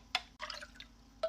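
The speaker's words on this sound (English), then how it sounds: "So let's pour this milk" Breast milk pours from a pump bottle in a few brief liquid splashes and drips, close and fairly quiet, with short gaps between them.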